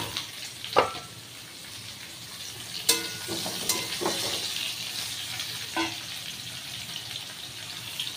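Pointed gourd hits hot oil in a pan that has just fried prawns, giving a steady close sizzle with a few clatters and stirring knocks.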